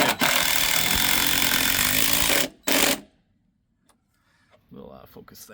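A power drill drives screws into a rail on a historic front porch. Loud, close buzzing whir for about two and a half seconds, a short second burst, then near silence with faint movement.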